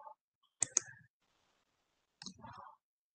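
A computer mouse gives two quick, sharp clicks, then after a pause a softer click with some faint handling. The sound is close and otherwise quiet.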